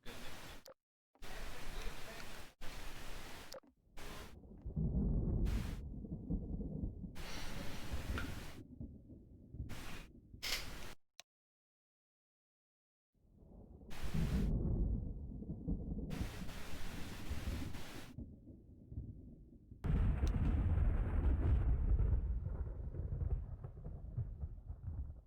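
A thunderstorm in a Garry's Mod Star Wars roleplay game rumbles in low, rolling bursts separated by sudden silences, with a heavier swell of rain-like noise near the end.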